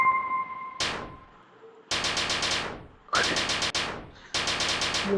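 Video game gunfire comes in four sharp bursts of rapid automatic shots with brief quiet gaps between them, after a short tonal game sound at the start.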